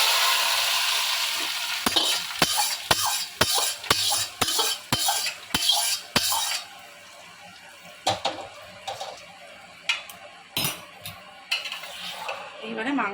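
Oil poured over mutton cooking in a pot on a gas stove, a soft sizzle followed by a series of sharp metallic clanks of a spoon stirring against the pot, close up and fairly quiet.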